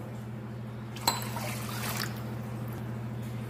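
Water poured from a cup into fenugreek flour for a traditional fenugreek kali, a short splashing trickle starting abruptly and fading over a second, close by over a steady low kitchen hum.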